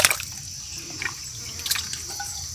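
Mountain-fed water runs from an outdoor tap, a steady close rush and trickle with a few brighter splashes and drips, heard alone.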